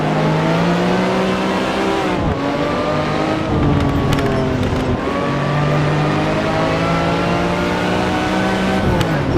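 Race cars drifting in a VR sim-racing game, including a Ferrari and a Shelby Cobra, with loud, continuous engine roar, rising and falling revs and tire squeal throughout.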